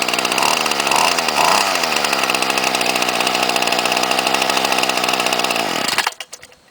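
An old string trimmer engine runs at a loud, buzzy pitch, revving up briefly a couple of times near the start, then holds steady before cutting off abruptly and sputtering to a stop near the end.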